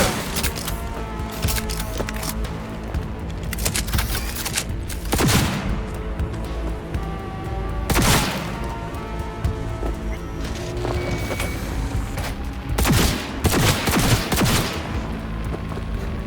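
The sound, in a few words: gunfire in the video game Cyberpunk 2077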